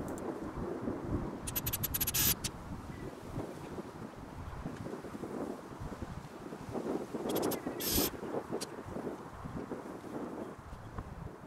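Strong wind roars and buffets a microphone outdoors while a 3 x 3 m garden shed is being built, a steady low rumble throughout with a couple of brief sharp clattering bursts.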